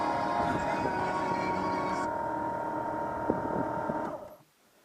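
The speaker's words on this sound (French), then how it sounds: "on entend un relais dans la boîte à fusibles" Relay clicking inside the fuse box of a Citroën BX 16 TRS, heard as a steady mechanical buzzing hum with faint ticks that runs for about four seconds, then cuts off abruptly into near silence.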